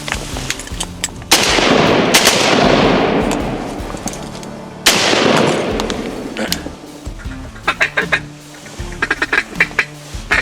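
Duck hunters fire shotguns at black ducks in a waterfowl hunt, two loud blasts spaced a few seconds apart with long echoing tails, followed by a string of quick duck quacks and brief talk.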